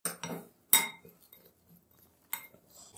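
A spoon stirs homemade degi biryani masala spices with tamarind in a bowl, making a few close, bright clinks and short scrapes separated by quiet gaps, with no speech.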